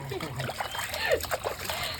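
Water splashing and trickling as puppies are rinsed in a bath, with short irregular splashes and sloshing close by while people talk over it.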